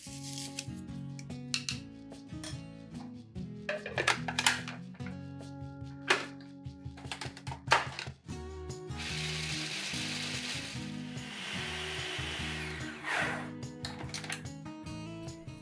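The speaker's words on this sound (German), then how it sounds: "hacke sie im Zerkleinerer, bis die Mandeln fein gemahlen sind" Food chopper grinding almonds with sugar, vanilla sugar and baking powder, a close rattling mechanical whir that comes in bursts with short pauses, then runs as one sustained grind.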